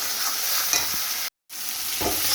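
Spices with turmeric and salt fry in oil in a pan for a fish dish, a loud continuous sizzle with scraping stirs. It briefly cuts out to silence midway, then resumes.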